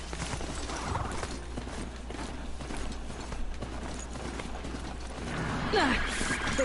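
A mechanical horse mount gallops in Horizon Zero Dawn, its hooves clip-clopping in a steady rhythm with creaking, whirring machine parts and the occasional neigh, all over a constant low game ambience.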